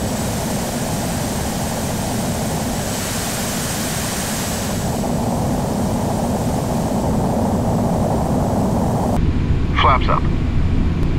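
Airliner engines roar steadily as the jet climbs out after takeoff in Flight Simulator X, a loud continuous rumble with a thin whine, while voices talk over it.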